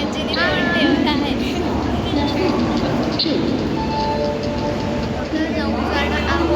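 A steady, loud rumble of a moving passenger train fills the ride, with rattling carriage noise and voices talking over it.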